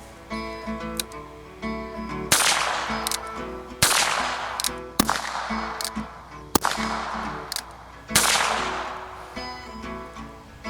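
Six single shots from Ruger Wrangler and Single Six revolvers at an outdoor range, sharp loud cracks spaced about a second or more apart, each with a short ringing decay, over faint background hum.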